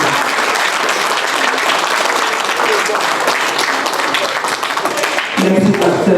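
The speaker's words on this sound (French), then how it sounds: "Vraiment, je crois que vous êtes d'accord avec moi qu'il mérite un tonnerre d'applaudissements." Loud, dense applause from a crowd at a church celebration of a woman's life, continuous clapping close by, with a voice speaking briefly toward the end.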